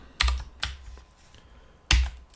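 A few quick keystrokes on a computer keyboard, close and crisp, with three sharp clicks separated by soft faint tapping, no voice.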